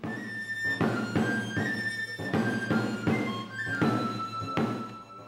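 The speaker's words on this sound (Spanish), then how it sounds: "Música de flauta y tamboril al amanecer" Flute and tabor soundtrack music: a reedy flute melody of held notes over steady, regular drum beats, moderately loud throughout with no voices.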